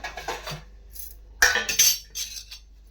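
Steamed moong dal idlis being lifted out of a metal idli plate, a few sharp metallic clinks and scrapes of steel on steel in bursts, close and clear, with quiet gaps in between.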